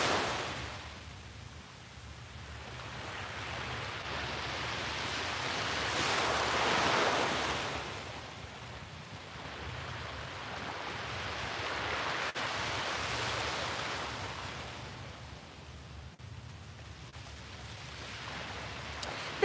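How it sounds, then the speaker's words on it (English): Ocean waves break on the shore at sunrise, swelling and fading in slow, soft surges about every six seconds under a faint wash of breeze, with no one speaking. "the sound of the waves"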